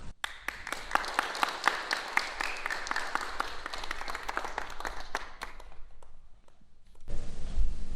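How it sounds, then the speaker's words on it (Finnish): An audience applauds at the opening of the Modelon factory: steady, dense clapping from many hands that continues for several seconds, thins out, then gives way to a broader rumble of room noise. "minusta se on ihan aplodien paikka"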